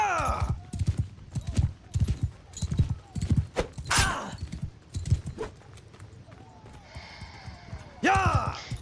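Horse hooves clip-clopping in Mount & Blade II: Bannerlord, a rhythmic run of thudding beats with a brief whinny, mixed with combat crashes and someone talking over the game.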